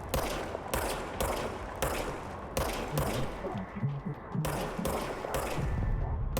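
Gunfire in the video game Control, with repeated sharp shots in quick bursts firing at targets. The reports are loud and close and sound alone, without talk.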